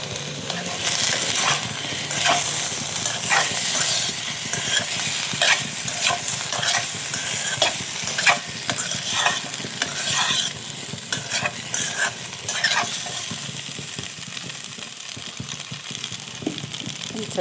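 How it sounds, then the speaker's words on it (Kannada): Food frying in a pan with steady sizzling, stirred throughout with repeated scraping strokes of a spoon against the pan, close and continuous with no talk. "ಚೆನ್ನಾಗಿ ಫ್ರೈ ಆಗಲಿ"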